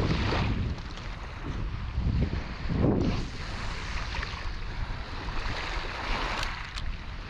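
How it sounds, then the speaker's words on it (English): Strong wind buffets the microphone over steady, rushing surf on a winter beach as the breeze picks up. No voices, just continuous broadband roar with gusting swells. "Wind's coming up."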